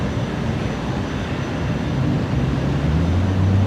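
An aircraft takes off at night from Brisbane Airport about a kilometre away, heard as a broad, steady roar that swells gradually louder.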